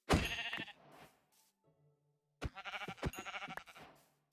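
Sheep in Minecraft bleat twice, each cry a loud, nasal, wavering call separated by a short quiet gap, with the game's faint soft tones in between.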